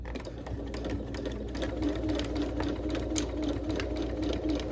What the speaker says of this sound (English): I'm going to go ahead and run another line of stitching here in the seam allowance.